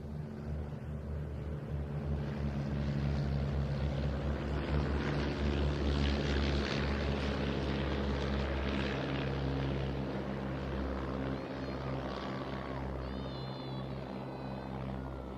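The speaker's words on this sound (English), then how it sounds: "The other propeller-driven De Havillands now going off the grass. Foxmoth, Tigermoth and 2 Chipmunks." Propeller-driven de Havilland Fox Moth, Tiger Moth and two Chipmunks take off from grass at an airshow, a loud steady piston-engine drone swelling and holding throughout.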